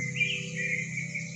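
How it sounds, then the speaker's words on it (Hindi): Birds chirp in a garden, a short stretch of steady high twittering over a low background hum. "चिड़ियाँ चहचहा रही हैं।"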